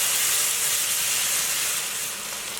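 Katahar curry with salt and all-purpose seasoning cooking down in a pot: a continuous, close steamy hiss and sizzle that fades slightly toward the end, with no voices.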